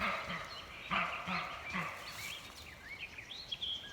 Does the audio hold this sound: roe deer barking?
yes